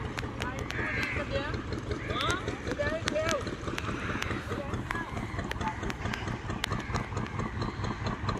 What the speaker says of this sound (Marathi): आता ही बोट आतमध्ये एंटर होत आहे आणि बंदराच्या किनाऱ्यावरती थांबणार जाऊन.